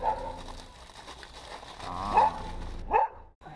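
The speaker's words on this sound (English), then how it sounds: "The dog is angry." An angry dog gives a few short, moderately loud barks near the end, over a low background murmur.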